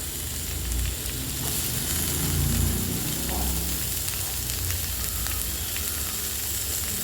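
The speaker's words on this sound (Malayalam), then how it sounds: "ക്യാപ്സിക്കം, തക്കാളി, ഇതെല്ലാം കൂടെ ഇട്ട് നന്നായിട്ട് ഇതിനെ വഴറ്റിയെടുക്കണം." Capsicum and tomato sauté with bay leaves and green chillies for a vegetable coconut milk curry, producing a steady, close, hissing sizzle that runs unbroken throughout, with no talking.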